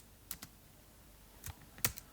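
Computer keyboard keys being pressed for shortcuts produce a few faint, sharp clicks in quick pairs, spaced apart over quiet room tone.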